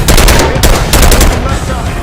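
Rapid, loud machine gun fire in Call of Duty: Black Ops 6, a dense continuous burst of automatic shots filling the whole moment at close range with no pauses.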